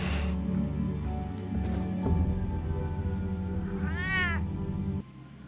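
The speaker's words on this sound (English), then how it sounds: "The cat is jealous." A cat gives one rising-and-falling meow near the end, over a steady low hum and background music.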